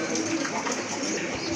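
Pigeons in a loft coo softly and continuously at close range, their low murmuring calls overlapping into a steady background.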